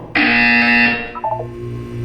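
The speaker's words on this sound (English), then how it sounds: "When you hear the buzzer, look down at the floor." A loud electronic buzzer tone from the test chamber in the video game Portal 2, a single sustained harsh blast lasting most of a second, followed by quieter beeping tones and a low hum.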